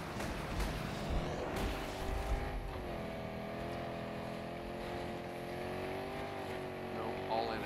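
A stolen tank drives in a video game, its engine droning steadily close by with a sustained tonal rumble, while a voice talks over it at the start.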